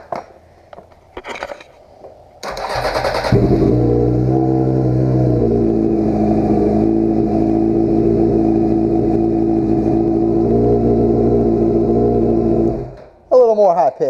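A Honda F4i sport motorcycle engine fires up after brief talk and holds a loud, steady, high-pitched idle for about ten seconds, then cuts off, and talk resumes at the end.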